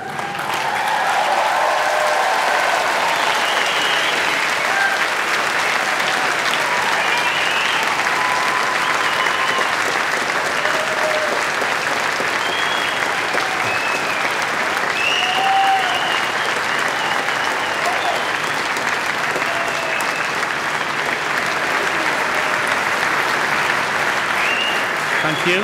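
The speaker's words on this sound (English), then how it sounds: "guests, will you please be upstanding, turn and applaud our exceptional achievers" Graduation ceremony guests stand and applaud the achievers, a dense, loud, continuous wall of clapping from a large hall crowd lasting over twenty-five seconds with no letup.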